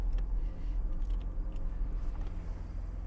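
A low, steady idle from a 1990 BMW 535i E34 with its original factory exhaust muffler, engine still cold, running continuously at moderate volume with faint background clicks.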